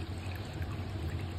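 Water from a small bowl is poured into rice flour in a pot as ghavne batter is mixed, giving a soft, steady trickle and stream that runs quietly and continuously, with no voices.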